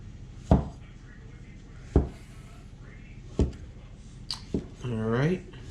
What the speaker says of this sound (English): you're going to just slice all the way through